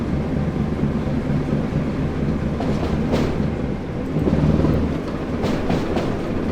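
A BR class 08 diesel shunter in British Rail blue livery runs on the Great Western line in Train Sim World 2, giving a steady low rumble and rolling drone with a few clanks, briefly louder partway through.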